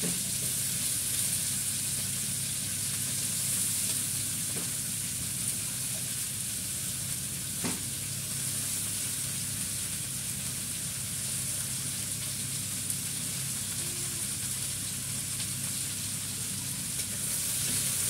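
Fish frying in a pan, a steady broadband sizzle with bubbling oil running continuously throughout, close and fairly loud, with one brief sharper crackle midway and no talking.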